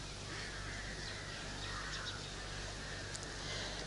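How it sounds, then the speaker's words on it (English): Crows caw outdoors in the early morning at a meditation gathering. A few faint calls sit over a steady, noisy background hum. "I think that the crows should stop their noise."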